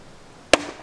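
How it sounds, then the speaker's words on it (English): A single sharp thud of an old Cadillac's car door swinging shut nearby, one brief loud impact with a short ringing tail in otherwise quiet surroundings. "that is the sound of the door."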